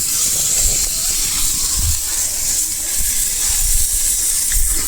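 Fish sizzles steadily on a hot tawa, a loud continuous hiss close by with faint low thumps and handling noises underneath.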